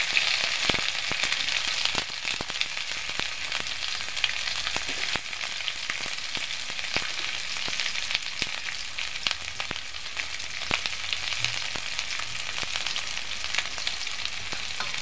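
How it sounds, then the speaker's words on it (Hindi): Pieces of amda, or hog plum, fry in hot oil with a steady close sizzle broken by frequent sharp pops and crackles, with no talking, during village-style chutney cooking. "दोस्तों तेल गरम हो गया अब अमड़ा को डालते हैं"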